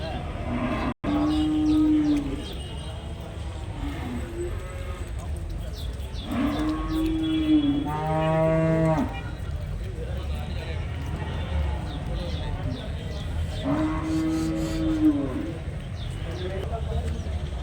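Cattle moo repeatedly at the Vaniyamkulam livestock market, with several long, loud calls standing out over a busy crowd and ongoing talk.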